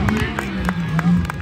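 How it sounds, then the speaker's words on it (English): Outdoor crowd at a demolition derby in Lowood, Queensland, giving scattered, uneven applause, with individual claps standing out over a low engine hum and background chatter. "Give him a big round of applause here this evening."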